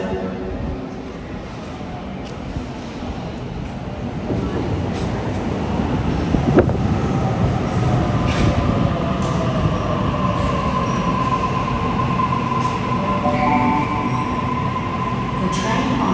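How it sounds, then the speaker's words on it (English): A Sydney Trains T4 Illawarra service rolls into a station platform, a steady rumble building with squealing wheels and rising tonal whines, heard nearby over faint wind and station ambience. "your next train to Macarthur is approaching"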